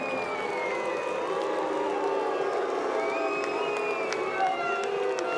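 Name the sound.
spectators applauding Great Britain canoe polo goal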